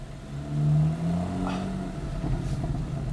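A Porsche 911 Carrera S (991.1) engine idles with a low, rumbling exhaust burble that swells briefly, steady and close, with no voices.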